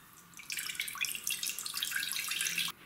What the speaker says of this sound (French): bon j'en ai pas, donc je mets de l'eau.